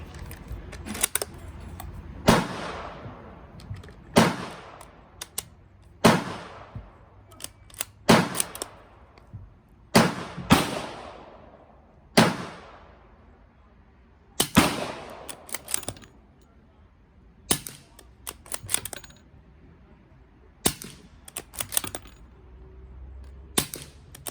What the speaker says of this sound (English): Put a few more 38s down range.